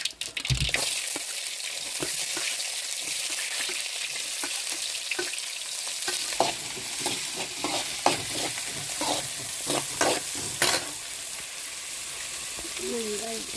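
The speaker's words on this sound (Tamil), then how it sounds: "எண்ணெய் காஞ்சிட்டு இப்போ வந்து கடுகு போட்டுக்கிறோம்." Onions sizzle and fry in hot oil with popping mustard seeds in a pan, stirred with a utensil; a steady close sizzle carries scraping stir strokes throughout, with no speech.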